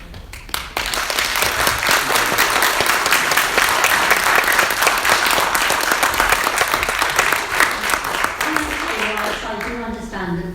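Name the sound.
audience applauding a speech at a committee meeting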